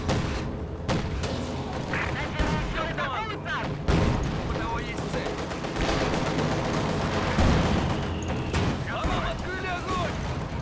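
Combat in the video game Company of Heroes 2: rattling machine-gun bursts and booming blasts keep going throughout, while voices talk over the gunfire.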